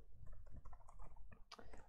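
Quiet, rapid clicking of keys on a computer keyboard as data is typed into input fields, a short burst of uneven taps heard alone and up close.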